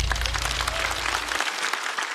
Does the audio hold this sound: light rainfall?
no